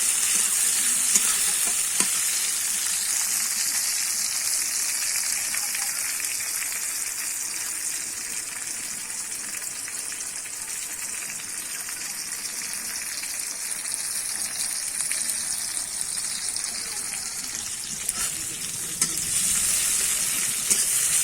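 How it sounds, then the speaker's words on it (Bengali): Tomato fries in a pan for Bengali koi fish curry, a steady close hissing sizzle with a faint watery bubbling undertone running evenly throughout, a few soft clicks near the start and end, no talk. "আমি আর একটুখানি ভেজে নেবো টমেটোটা"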